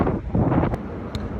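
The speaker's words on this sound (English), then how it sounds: "Ooh, it's windy though." Wind gusts on a Manhattan street buffet the microphone in a brief burst of loud, rumbling, uneven blowing noise, with no voices.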